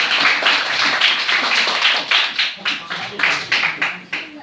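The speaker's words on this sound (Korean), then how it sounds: "아 박수" Students in a first-year earth science class clap together in a steady, rhythmic beat, roughly three claps per second, close and loud in the classroom for several seconds.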